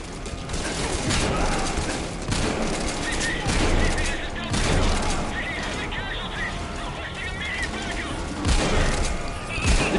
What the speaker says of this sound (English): I'm loving this shotgun.